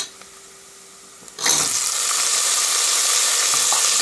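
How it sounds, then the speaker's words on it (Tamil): Chopped chayote (chow chow) tipped into a hot pan of sautéed onions for a Tamil kulambu: quiet at first, then a sudden loud burst of sizzling that keeps up steadily to the end. "சௌசௌ காய் போட்டு நல்லா வதக்க விட்டுக்கலாம்."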